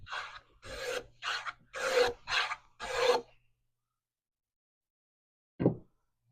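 A hand plane with its chip breaker set well back from the blade edge planes wood, chattering and tearing out along seams: six quick rasping strokes in a row, then silence and one more short stroke near the end.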